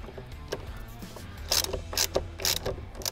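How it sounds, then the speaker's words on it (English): Ratchet fitted with a T50 bit clicking in short bursts as it tightens the steering wheel bolt on a C8 Corvette, close and fairly loud with pauses between pulls. "Grab our ratchet again with the T50 on it."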